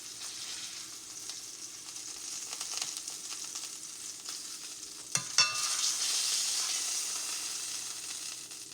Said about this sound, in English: Again, we're only trying to sear them.